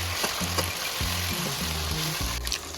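Ground spice paste fries in a pan for rohu fish head dal, hissing and sizzling steadily while a spoon scrapes and stirs in uneven strokes, close and fairly loud.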